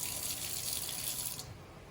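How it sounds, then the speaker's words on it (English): Water gushes steadily into a kitchen sink for draining and rinsing, a soft hissing stream that cuts off abruptly partway through, leaving quiet low rumble. "So I will drain, add a little bit of water, shake it, drain"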